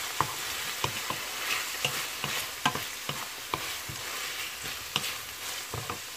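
Pork browning in a pan for adobo, a steady close sizzle of frying with repeated clinks and scrapes of stirring, no speech.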